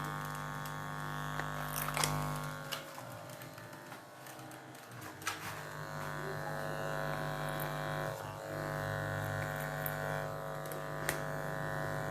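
Home electric hair clippers cutting hair clipper-over-comb during a short back and sides fade, giving a steady close buzz for the whole stretch with small shifts as the blades move through the hair.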